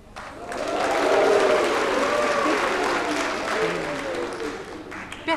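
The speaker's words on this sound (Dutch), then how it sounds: "maar toch wordt er geklapt" Studio audience applause on a 1983 Dutch television quiz show, a loud dense burst of many hands that swells quickly, holds steady, then thins out toward the end.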